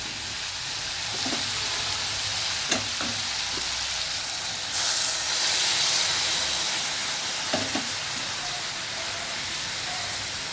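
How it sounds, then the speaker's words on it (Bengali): Boiled hot water poured into a well-fried ripe cucumber curry in a pan sets off a sizzling, hissing burst of steam, with a few clinks of utensils around the steady frying noise. "এবার এর মধ্যে দিয়ে দেব আমি ফুটিয়ে রাখা গরম জল।"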